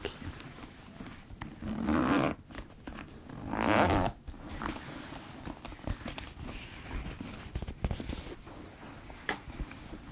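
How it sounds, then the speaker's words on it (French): A bag is unzipped and opened, with two louder bursts of zipper rasp and rustling followed by quieter handling sounds. "Et maintenant, on va ouvrir le sac."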